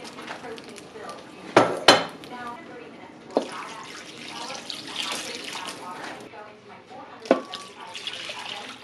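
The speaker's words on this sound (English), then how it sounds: "I am going to fill this up with water." Filtered water pours into a slow cooker pot amid clanking of dishes and utensils in a kitchen, with a few sharp knocks and a steady splashing flow.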